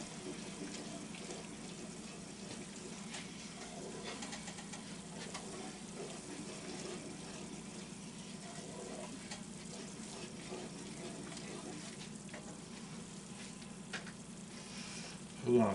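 A seafood gumbo roux stirred in a pot, a faint, steady sizzle with soft scraping of the spoon running continuously, ending in a brief louder knock.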